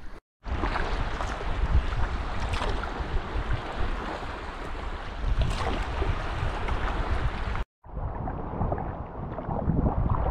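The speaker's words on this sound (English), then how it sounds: "paddling along here out to Punto Giuseppe, I think it is" A sea kayak paddles along the Corsican coast, with steady close wind buffeting and water wash running loud and continuous, cut by a brief break before the rushing resumes.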